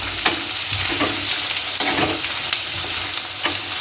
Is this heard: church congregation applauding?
no